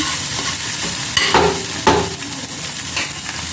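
Egg being stirred into a frying pan for egg tadka makes a close, continuous sizzle, with a few louder scraping strokes of the spatula standing out; no speech.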